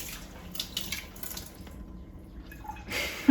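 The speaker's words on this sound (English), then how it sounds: "So we're gonna use a whole can of black beans in the veggie burgers, and I'm just gonna drain them and rinse them." Running tap water rinses a can of drained black beans for veggie burgers, a soft, steady splashing hiss that stays faint throughout and swells slightly at the very end.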